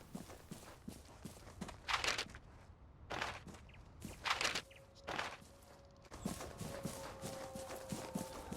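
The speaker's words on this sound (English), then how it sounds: "So whenever you are unsure about where somebody is, listen to their footsteps." Footstep audio cue in the video game Vigor: a series of soft, irregular steps at close range with bright bursts of movement noise between them, with no talk.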